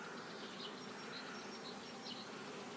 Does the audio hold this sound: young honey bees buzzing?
yes